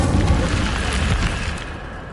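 Incendio fire spell cast in a Harry Potter video game, a loud roaring burst of flame with a deep booming body that holds steady, then eases off toward the end.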